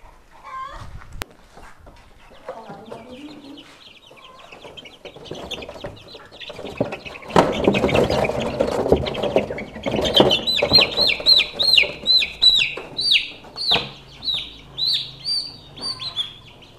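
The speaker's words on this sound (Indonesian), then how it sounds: "ini adalah ayam yang bakal induk kita" Chickens call and cluck near the microphone, starting sparse and quiet, then building into a loud, rapid series of repeated high chirps over a noisy background.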